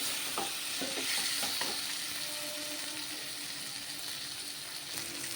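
Marinated chicken pieces fry steadily in hot oil, giving a continuous bright sizzle with a few soft clinks of stirring near the start, close and even throughout.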